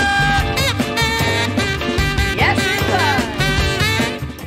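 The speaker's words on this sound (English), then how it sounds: "is a type of single-reed woodwind instrument with a conical body," A brass single-reed saxophone plays a bright melodic line over a full band backing, with bends and runs throughout, loud and continuous.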